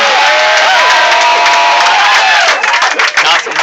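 A comedy club crowd at Scotty's bursts into loud, sustained cheering and whooping with scattered applause, a dense roar that holds steady before fading in its last second.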